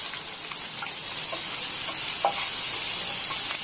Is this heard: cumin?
yes